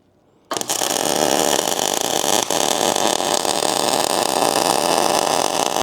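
Welding the corners of a metal frame: after a brief silence, a loud, continuous crackling, hissing arc starts abruptly and holds steady with one short dip before cutting off at the end.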